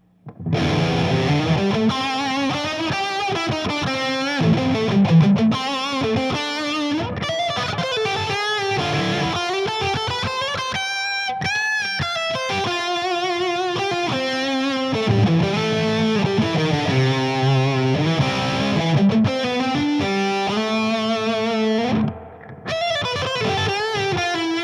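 A Marshall JCM900 Dual Reverb guitar amp on channel B with reverb turned up about halfway rings out distorted chords and riffs, loud and sustained, with a wet reverberant tail.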